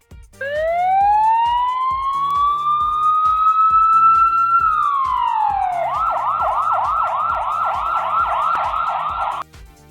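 A police car siren wails steadily, rising and holding in a long sweep, then switches to a fast repeating yelp before cutting off; loud and close, with no voices.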